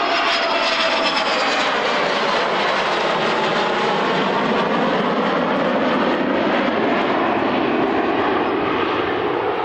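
Nimrod aircraft from 42 Squadron flying past at a 1998 Woodford airshow, a loud continuous roar of jet engines that sweeps steadily and fills the whole stretch.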